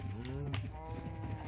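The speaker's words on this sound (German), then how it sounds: "Ich bin bei den Kühen gerade." Cows in the video game Minecraft give a clear, close moo, a drawn-out low bovine call followed by fainter lowing, with a little voice underneath.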